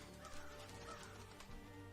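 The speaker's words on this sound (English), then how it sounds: "Crows scream in terror, their wings beating at the rain." Crows cawing in a short, faint burst of harsh calls within a dense, noisy background, heard for only a couple of seconds.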